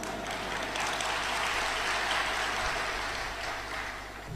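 Audience applause at a live Kannada comedy show, a dense, steady clatter of many hands that holds for several seconds, with no voices on top.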